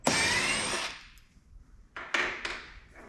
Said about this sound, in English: You'll also want to remove these 2 bolts.